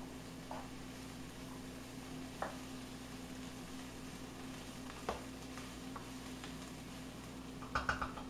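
Onions and bell peppers sizzle softly in a pan for chili mac, a faint steady frying hiss with an occasional light clink of a utensil, no talk.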